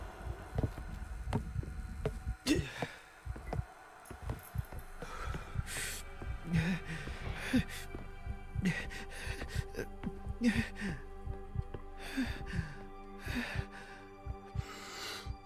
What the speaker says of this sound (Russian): Дыхание.